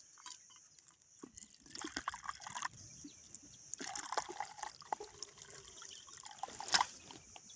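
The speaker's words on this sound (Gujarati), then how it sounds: "આ થેલીનું પાણી લાવ્યા છે ને પાણી ભરી દીધું છે" Water poured from a plastic bag into a drinking spot for a lapwing on a farm, with uneven trickling, splashing and dribbling that swells and eases in several bursts, fairly faint.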